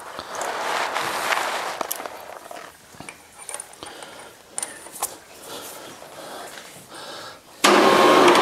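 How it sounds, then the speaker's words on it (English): A lathe chamfers the edge of a freshly bored hole, a steady mechanical whir with scraping cutting noise that fades and surges in short bursts, ending in a louder, brighter burst of machine noise. "Now to chamfer the hole a little bit."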